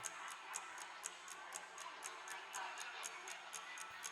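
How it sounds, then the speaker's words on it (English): Wall clock ticking at night in a quiet room, faint evenly spaced ticks about twice a second over a soft hiss. "I can hear a clock on my wall"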